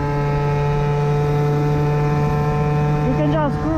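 The engine of an Aprilia SR50R Euro 4 scooter, tuned to 70cc with a smaller carburetor, drones steadily at quarter throttle while riding. The hum is loud and continuous, with rushing wind and a slight pitch change near the end.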